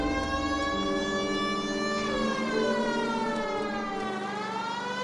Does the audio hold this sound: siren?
yes